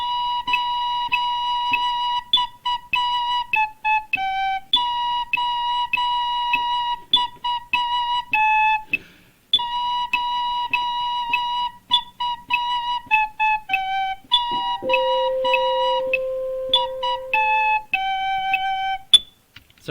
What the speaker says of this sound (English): Sorry about that noise. That's the bell for the class.